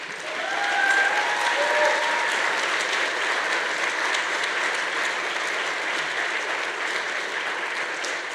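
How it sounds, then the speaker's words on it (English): Audience at a university honors medallion ceremony applauding, a dense, steady wash of many hands clapping in a large room that swells early and then holds at an even level. "If you would please rise and accept the audience's applause."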